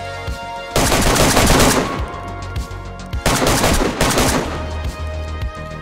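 Automatic gunfire in DayZ, two loud sustained bursts of rapid shots each lasting about a second or more, separated by a short quieter gap, close and dominant with no talk.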